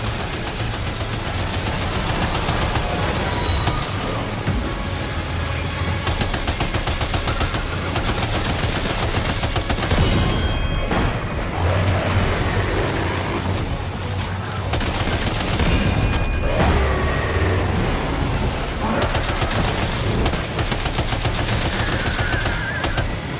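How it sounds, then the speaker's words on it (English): Sustained gunfire from the video game Death Stranding 2: dense, loud bursts of automatic fire and shots run continuously for over twenty seconds, with a heavy, layered game soundscape and no talking. "Opening fire now."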